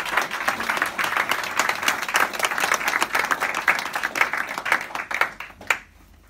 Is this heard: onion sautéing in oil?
no